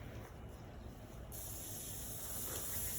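Water from a garden hose hisses steadily as it sprays onto a horse, a continuous close-up rush of spray that swells louder partway through, with no talking.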